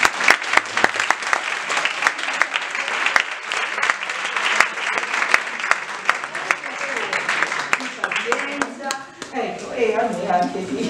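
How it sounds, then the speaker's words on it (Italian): An audience at a 0-6 early-years training session in the Siena area gives a round of sustained applause, dense clapping throughout that thins near the end as voices come through. "facciamoci un applauso"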